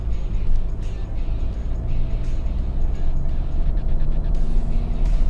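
A Mercedes-Benz E220 CDI W211 diesel sedan drives on, its low engine drone steady and close from inside the cabin, with slight shifts in pitch as it accelerates and changes gears smoothly.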